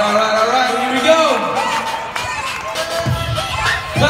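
An arena crowd at a Special Olympics event in Minnesota cheers and makes noise continuously, loud and close, with music-like tones and shouts layered through the whole stretch.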